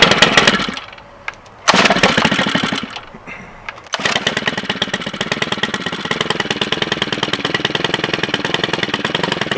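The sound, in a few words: STIHL FS 111R string trimmer cold starting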